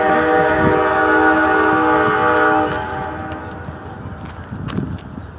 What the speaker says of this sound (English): Oh, the Amtrak's here.